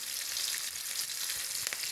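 Onions fry in oil in a wok before rice goes in for pulao, a soft, steady hiss of sizzling at a low level with no voices.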